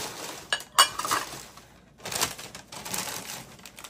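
Ceramic half plates and bowls from an IKEA haul clink against each other as they are handled, a few sharp close knocks and rattles with brief quiet gaps between them.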